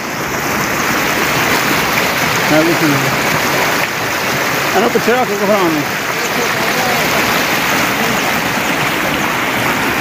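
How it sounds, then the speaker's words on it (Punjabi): Fast-flowing river water rushes down from the Jammu mountains, a steady loud broadband roar that continues for the whole stretch, with a person talking over it. "ਜੰਮੂ ਦੇ ਪਹਾੜਾਂ ਤੋਂ ਪਾਣੀ ਆਉਂਦਾ, ਉਤਰ ਕੇ ਤੇ ਬੜੀ ਤੇਜ਼ੀ ਨਾਲ ਪਾਣੀ ਆਉਂਦਾ"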